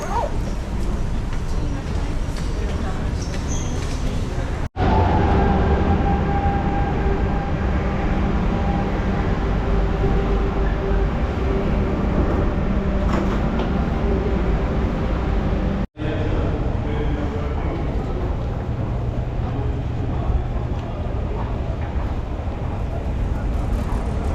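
A metro train rumbles through an underground station on Lisbon's blue line, a loud, steady roar of wheels and motors with a couple of abrupt cuts.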